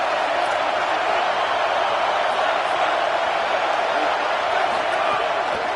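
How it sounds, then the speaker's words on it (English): A stadium crowd roars during a football game on third down, a dense, steady wall of cheering noise that holds loud and unbroken throughout. "Decibels rising as the crowd gets behind this defense on 3rd down."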